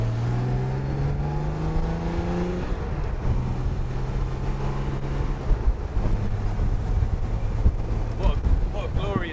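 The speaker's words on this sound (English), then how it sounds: "What a glorious day to be out in your convertible E-Type" A convertible Jaguar E-Type with a straight-six engine and EFI drives along at a steady cruise, its low engine drone mixed with wind rush and occasional shifts in pitch.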